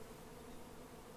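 Honey bees from a colony being extracted from a rotten tree hum in a steady, low, continuous drone, faint and close, with no voices.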